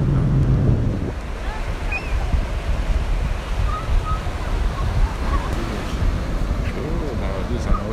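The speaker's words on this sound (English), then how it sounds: "It's an ocean." Steady roar of ocean surf at a beach in Lagos, Nigeria, with wind rushing over the microphone, continuous and fairly loud, with faint voices in the background at the start.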